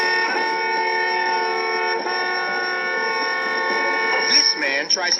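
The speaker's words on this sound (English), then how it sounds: "Some honk their horns." Several car horns honk in a long sustained blare, loud and layered, near a beach resort as vacationers react, with shouting and commotion rising toward the end.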